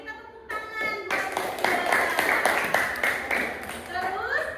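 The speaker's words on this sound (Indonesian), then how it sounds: "Oke, kita tepuk tangan buat" A classroom of students clapping for a classmate, a short burst of group clapping that swells after a brief opening with a voice, with talk over and around it.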